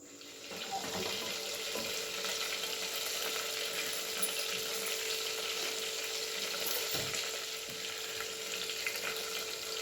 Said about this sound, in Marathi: भांडं तापले आता थोडंसं तेल घालून घेतलंय तेलामध्येच थोडंसं बटर घालून घेतलंय